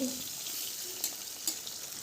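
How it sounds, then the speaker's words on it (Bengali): Pabda fish frying lightly in hot oil in a pan, a soft steady sizzle with a couple of faint sharper pops, heard quietly and without talk. "এই মাছগুলো খুব বেশি ভাজবো না এখানে একটু হালকা হালকা করে ভেজে নিয়েই তুলে নেব"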